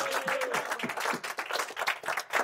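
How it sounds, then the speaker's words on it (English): A class of students in a stock market trading classroom claps and applauds steadily for a couple of seconds, dense and fairly quiet, with no pauses. "Okay, class, clap it up for yourselves."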